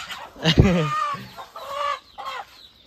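A village rooster, held in the hands, lets out a few loud, squawking clucks up close, in short agitated bursts with brief pauses between them.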